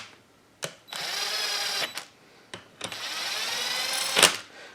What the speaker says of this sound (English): Alright, so I use my gun just to snug the bolts down.